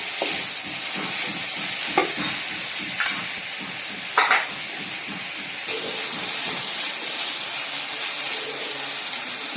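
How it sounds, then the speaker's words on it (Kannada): A gobi paratha stuffing with cauliflower, salt and mint is stirred in a hot pan over a gas stove, giving a steady sizzle and hiss with repeated scraping stirs and occasional louder spoon knocks. "ಹಾಗೂ ರುಚಿಗೆ ತಕ್ಕಷ್ಟು ಉಪ್ಪು, ಪುದೀನಾ ಎಲ್ಲವನ್ನು ಹಾಕಿ ಸರಿಯಾಗಿ ಕಲಿಸಿಕೊಳ್ಳಿ"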